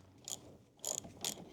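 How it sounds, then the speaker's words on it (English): A hand ratchet works on the tie rod bolt of a John Deere lawn tractor, giving three short bursts of quick metallic clicking close by with pauses between. "unbolt the tie rod"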